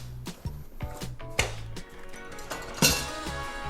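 A metal spatula scraping and clinking against a cookie sheet as low carb sugar-free chocolate chip cookies are lifted off, with several sharp taps and scrapes spaced irregularly, close and moderately loud.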